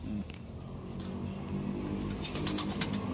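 Racing pigeons at a derby loft in Santiago, Isabela, cooing softly among a flock while wings flap and rustle, a continuous close, moderately loud bird bed with no talk.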